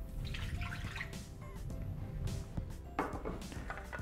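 Water is poured into the bowl of a Thermomix TM6 kitchen machine for pita bread dough, making a faint, steady splashing trickle with light knocks and clinks, close but quiet and heard alone.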